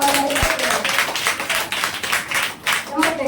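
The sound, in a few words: congregation clapping in church worship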